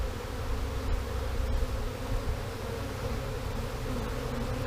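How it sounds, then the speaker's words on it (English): Honey bees from a swarm buzz steadily around a hive outdoors, a dense continuous drone close to the microphone with individual bees passing nearby. "And we got bees on the lens."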